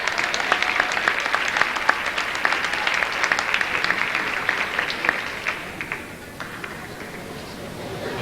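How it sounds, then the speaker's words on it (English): Sustained applause from a gym audience after a high school marching band's drumline and guard performance, dense clapping throughout that thins slightly near the end. "Let's give them another round of applause"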